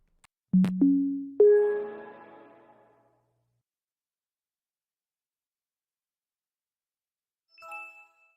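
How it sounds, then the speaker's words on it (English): The Windows 11 startup sound: a short sequence of soft, rising synthesized tones rings out and fades, followed by silence and a faint chime near the end. "Windows 11 brings to the table a new and pretty neat, simple startup sound"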